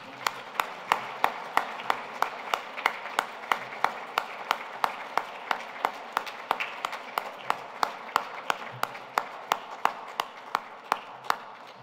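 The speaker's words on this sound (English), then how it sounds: "let's give ourselves a big round of applause" Slow, evenly spaced claps ring out one after another for several seconds, crisp and fairly close, like a small group clapping in unison at a Fulbright 75th anniversary celebration at Penn State.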